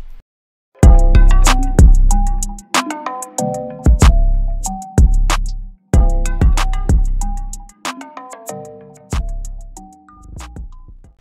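Ambient beat hook made in FL Studio: bright plucked, bell-like synth notes in a repeating melodic pattern with deep bass hits, soaked in delay and reverb so echoes trail between notes. Loud and up front, no voices.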